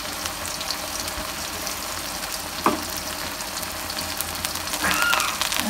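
Onion frying with garlic, cumin and ginger pastes and coriander powder, stirred in a pan, a steady soft sizzle with occasional scraping strokes, close and moderate, without talk.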